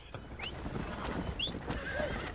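A horse in the Red Dead Redemption video game gallops with quick hoofbeats, and a whinny rises over the game's steady background noise.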